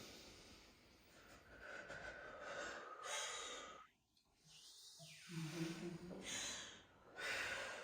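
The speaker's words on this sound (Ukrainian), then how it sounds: "Ми вдихаємо через ніс глибоко, поступово видихаємо через рот." A person breathes deeply, in through the nose and out through the mouth, during panic-attack calming practice. The breaths are close and slow, with audible snorting inhales and gusty exhales, and no talk.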